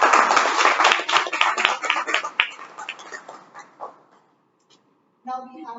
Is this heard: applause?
yes